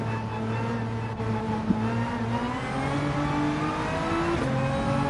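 Front-engine, rear-drive racing car in a racing video game, its engine droning steadily and rising in pitch as it accelerates, loud and close, with no voices.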